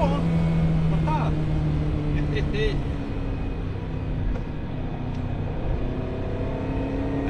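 A Ferrari 308 GTB's engine drones steadily from inside the cabin, its tone climbing and then settling at high revs, moderately loud beneath brief exclamations from the driver.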